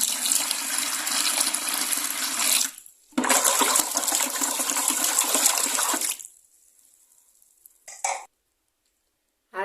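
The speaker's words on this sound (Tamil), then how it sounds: "இப்போ வந்து நம்ம 9 லிட்டர் தண்ணி எடுத்து வச்சிருந்தோம் இல்லையா, அதுலேருந்து 1 லிட்டர் மட்டும் இதில் ஆட் பண்ணிடுங்க" Water pours from a container into a soap oil mixture being made for vehicle washing: a loud, steady splashing gush for about three seconds, a short pause, another longer pour, then a few brief trickles.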